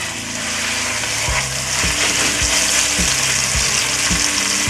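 Pork loin searing in hot olive oil in a pot, with a loud, steady close sizzle and regular low thumps or scrapes about every half second, and no voices.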